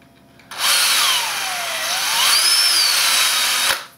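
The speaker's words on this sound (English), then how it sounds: "drill the axles out in the wheel" A power drill drilling out a wheel axle whines steadily for about three seconds, close and loud, its pitch dipping and rising slightly as it bites into material.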